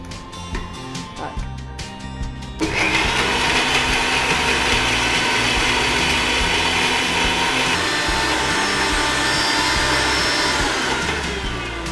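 A mixer grinder whirs loudly and steadily while grinding jackfruit seed paste, starting up after a short pause of quieter kitchen noise and running continuously at close range.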